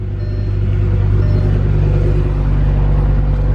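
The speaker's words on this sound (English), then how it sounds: "This is a cold start since yesterday." A car engine on a cold start runs at a steady, loud idle with a deep low rumble and constant tone, no revving, close by.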